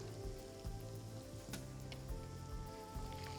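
Green chillies, ginger and urad dal sizzling in hot oil for rava kichadi, a continuous, faint frying crackle with a few brief clinks over a low hum.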